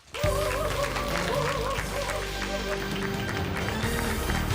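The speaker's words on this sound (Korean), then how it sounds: "큰 박수로 맞이해 주시기 바랍니다." A studio audience applauds to welcome a guest lecturer onto a televised Korean lecture stage, the clapping starting abruptly and holding steady and loud, blended with background music.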